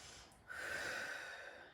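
Quiet, breathy exhale through the nose during a held yoga crow pose, starting softly and then flowing as a long, even, airy breath near the listener.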